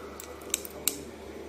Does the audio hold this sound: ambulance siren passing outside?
no